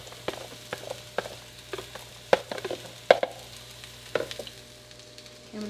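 Food sautés in a pan for a spaghetti dish, giving a low, steady sizzle broken by sharp clicks and scrapes from a utensil stirring at close range.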